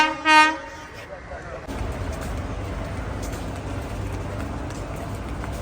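A train rolls through Kaniyapuram railway station in Kerala, opening with a short loud horn blast, then a steady close rumble of wheels and carriages that continues at even loudness.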